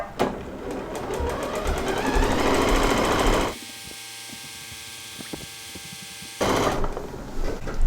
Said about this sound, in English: We're going to run the machine for 1 minute